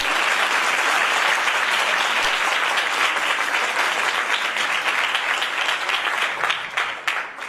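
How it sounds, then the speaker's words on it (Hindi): A church congregation applauds together, a steady dense wash of clapping that holds loud for the whole stretch and only starts thinning near the end. "कि यीशु के लिए तालियां नहीं बजाएंगे?"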